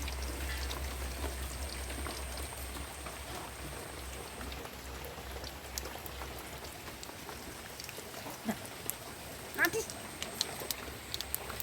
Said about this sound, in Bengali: এখন বৃষ্টি হচ্ছে সকাল থেকে